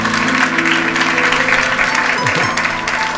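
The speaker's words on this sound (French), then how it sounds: "Acclamons pour le frère." A congregation applauds a brother during a church worship service, a dense continuous wash of clapping over a faint tonal background hum, with a brief murmur of voices near the end.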